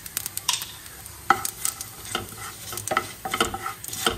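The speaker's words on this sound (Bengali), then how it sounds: "2 চামচ তেল নিয়েছি, এতে 1/2 চামচ মতো জোয়ানটা দিয়ে দিলাম।" Half a spoon of carom seeds (ajwain) dropped into two spoons of hot oil, crackling and sizzling in short bursts with stirring scrapes, close and fairly quiet, no talk.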